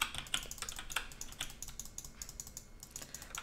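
A mouse clicks rapidly and repeatedly during play of Roblox Dragon Simulator, a quick irregular run of close, crisp taps with no pauses.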